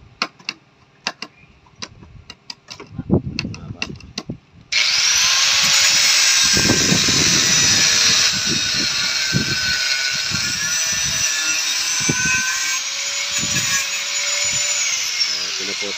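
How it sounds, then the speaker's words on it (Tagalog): A power cutting tool slicing through an excess bolt on a window grill, a loud continuous high whine that sets in suddenly after a stretch of clicks and knocks, steady and close with scattered bangs underneath. "Pinuputol yung sobrang tornilyo para ma-welding yung nut"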